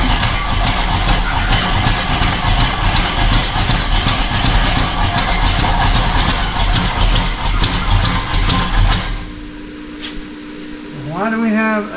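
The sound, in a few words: truck engine idling after start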